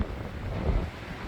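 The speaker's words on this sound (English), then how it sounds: "it's still very, very windy" Strong wind buffets the microphone at a bush campsite in Mana Pools, a steady loud rumble of gusts with no voices.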